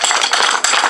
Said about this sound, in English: I hear clapping